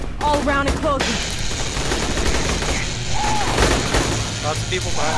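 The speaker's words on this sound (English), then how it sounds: "I hear gunfire." Rapid bursts of gunfire in the video game Aliens: Colonial Marines crackle and boom throughout, dense and continuous, with voices talking over the battle noise.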